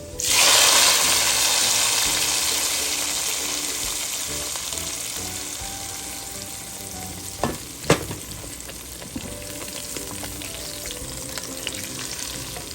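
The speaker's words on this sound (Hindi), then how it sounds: "अब हमने जो तड़का बनाया है वो हम इसके अंदर डाल देंगे।" Loud hiss and sizzle as hot tempering hits the pan of Punjabi-style sarson ka saag (mustard greens), fading to a gentle crackle with a couple of sharp clinks of a utensil.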